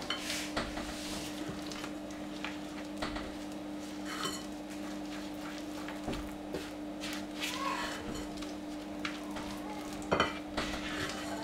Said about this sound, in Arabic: غادي نجيب دابا لا سباتول ونبقى نضيف الطحين تدريجيا